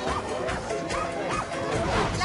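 Sled dogs before a departure bark and yip in rapid, overlapping bursts close by, with whimpers among them, while the musher urges them on.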